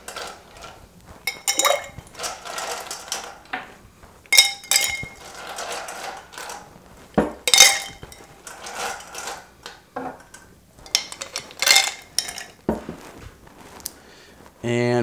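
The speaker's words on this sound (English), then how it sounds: "because all these ingredients are clear, we're going to be stirring this cocktail" A bar spoon stirs ice in a mixing glass for a clear cocktail, making repeated clinking and rattling in uneven bursts, fairly close and loud, with talking mixed in.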